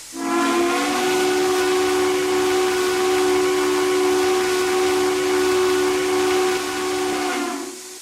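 An American steam locomotive whistle in the Roblox game RO-Scale Sandbox sounds one long, sustained chime of several layered tones with a hissy edge. It holds loud and even for about seven seconds before cutting off.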